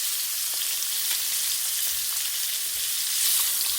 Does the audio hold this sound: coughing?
no